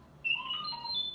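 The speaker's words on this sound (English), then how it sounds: "You will know it is time to turn the page when you hear R2-D2 beep like this." A single electronic R2-D2 droid beep used as a page-turn signal on a Return of the Jedi read-along book and record: a short warbling series of bright chirps and whistles, clear and close over faint background hiss.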